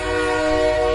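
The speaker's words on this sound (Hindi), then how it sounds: "तब तक ट्रेन ने हॉर्न दे दिया और ट्रेन चल पड़ी" A train horn blows as the train begins to pull away, a loud, steady, tonal blast that holds unbroken for the whole second.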